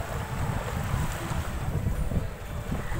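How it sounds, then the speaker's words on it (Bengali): Sea waves break and wash steadily on the beach at Mousuni Island, with a continuous roar of surf and wind buffeting the microphone, no voices. "ঢেউটা দেখো, ঢেউটা।"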